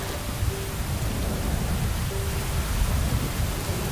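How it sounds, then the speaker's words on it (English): November rains soak parched dry-season ground, a loud, steady broadband roar of downpour with a low rumbling undertone, continuous and unbroken with no voices. "The iron grip of the dry season is dramatically released as the November rains soak the parched"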